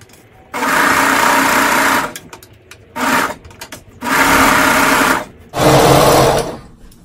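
Sewing machine stitching sweater fabric for a slouchy beanie with satin lining, running in four loud close bursts of steady whirring separated by short pauses, with no talk.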